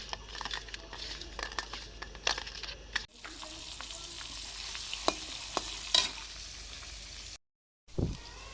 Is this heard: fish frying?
yes